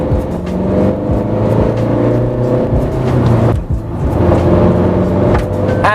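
A diesel Hyundai i20 or Tata Altroz hatchback engine drones loudly and steadily under acceleration, with a deep continuous rumble and whir from inside the car, briefly dipping midway before pulling hard again.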